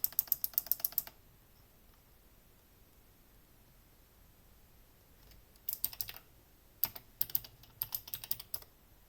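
A password is typed on a computer keyboard as quick, close bursts of light keystroke clicks, first at the start, then after a quiet pause as a second cluster near the end.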